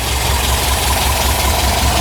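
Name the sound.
car engine idling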